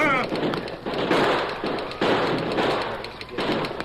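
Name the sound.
gunshot sound effect in radio drama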